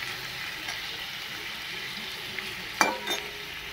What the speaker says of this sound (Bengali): এই মাংসগুলো দিয়ে দিয়েছি, পেঁয়াজের মধ্যে হালকা করে একটু ভাজবো